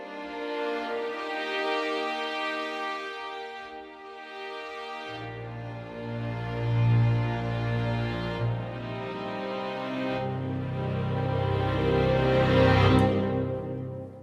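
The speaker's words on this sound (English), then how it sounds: "So the strings are the violins 1, violins 2, violas, cellos, and double basses." Orchestral string ensemble of violins, violas, cellos and double basses playing sustained long chords that swell and shift, with the low basses entering partway through, full and continuous with no voices.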